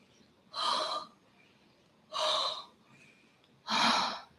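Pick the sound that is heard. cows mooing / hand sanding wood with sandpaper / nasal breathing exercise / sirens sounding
nasal breathing exercise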